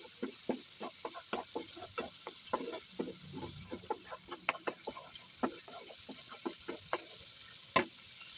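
Sticky rice cake frying in hot oil, a busy run of irregular crackles and sharp pops close by, with one louder snap near the end; no talking.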